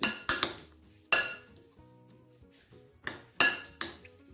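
Fish mixture being mixed with onion in a bowl for fish firire, heard as several sharp clinks and scrapes of utensil against the bowl, loud and close, with quieter stirring between them.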